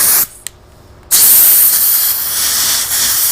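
Compressed air blasting over peeling white clear coat on a car, a loud steady hiss that cuts out briefly, pops once, then resumes and holds strong.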